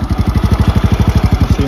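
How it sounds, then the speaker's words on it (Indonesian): A Yamaha Mio Sporty scooter engine idles close by, its rapid, even putter pulsing steadily without change. "motor langsung hidup guys"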